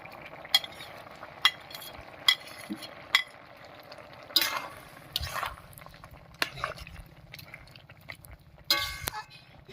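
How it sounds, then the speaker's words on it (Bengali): A spoon scrapes and clatters in a pan as fried lentil bhujia is stirred into a pumpkin greens curry, sharp metallic clinks at irregular intervals over a soft sizzle, close by and alone. "এবারে ভেজে রাখা ডালের ভুজিয়াটা দেবো"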